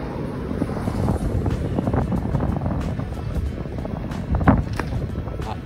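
Strong wind buffets the microphone while cycling around Moorea, a rough, gusty roar with bumps and rattles from the ride.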